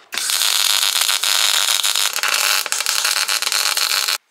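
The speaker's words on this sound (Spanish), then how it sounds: "Vamos a ver cómo va esto, soldando una llanta con el neumático montado." Welding on a Daihatsu Feroza wheel rim with its 54-inch tire still mounted, a loud, close, continuous crackling hiss that runs for about four seconds and then cuts off abruptly.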